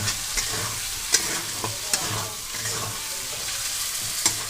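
Chili powder stirred into masala frying in a pan for a cabbage dish with rohu fish head: a steady soft sizzle under repeated scraping strokes of a spatula, with a few sharper clacks against the pan, no voices.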